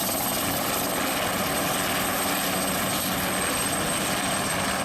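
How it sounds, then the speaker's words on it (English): A toy helicopter's rotor whirs in a constant, dense buzz, loud and close, running unbroken for several seconds with no talking over it. "Nice helicopter."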